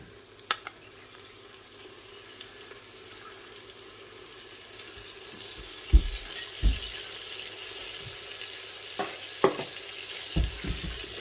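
Soya chunks fry in a pan with a steady, close sizzle while a spoon stirs them, giving occasional scraping knocks against the pan over the continuous crackle.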